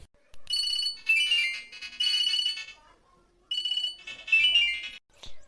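A mobile phone ringtone plays loud and close in repeated electronic melodic bursts with short pauses between them, no voices.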